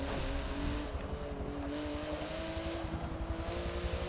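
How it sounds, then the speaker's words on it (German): A Porsche race car engine in the video game Forza Motorsport 7 drones steadily at high revs, a continuous loud buzzing tone with faint tire noise, heard alone without talk. "Aber der Sound von Porsche, der ist wirklich,"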